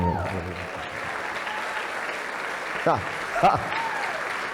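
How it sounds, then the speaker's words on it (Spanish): Applause from a church congregation during a sermon, a steady wash of clapping that fills the room, with a few louder bursts of voices or shouts rising through it near the end. "ese aplauso hubiera reventado este lugar"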